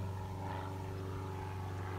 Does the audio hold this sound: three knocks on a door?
no